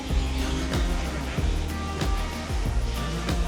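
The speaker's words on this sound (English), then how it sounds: "Huge waterfall." Roar of Búðareyrarfoss waterfall near Seyðisfjörður, Iceland, heard from the top of the falls: a steady, dense broadband rush with repeated low wind thumps, no talk.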